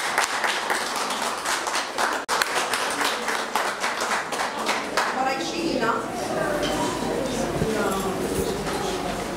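Loud applause from the audience at a DELF diploma award ceremony: sharp, crowded clapping in the first half thins into a softer patter while a voice speaks above it.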